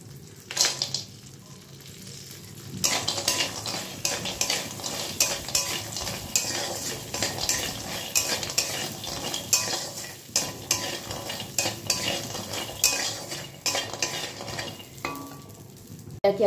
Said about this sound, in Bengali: ভেজে নেব বড়িটাকে